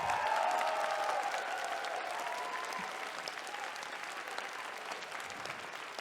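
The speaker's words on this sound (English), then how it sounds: "I just want one more round of applause." A crowd at the osu! COE 2025 1v1 Grand Final between MALISZWESKI and mrekk gives sustained, distant applause that stays even for the full length and fades slightly toward the end.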